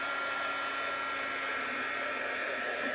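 Hair dryer blowing steadily on a rustic bird house craft, a constant close whooshing roar with an even hum, no speech over it.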